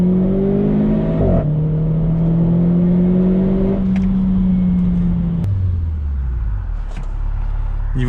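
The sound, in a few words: Renault Clio 4 RS accelerating, launch control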